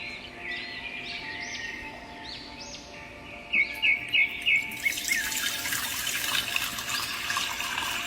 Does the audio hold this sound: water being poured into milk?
yes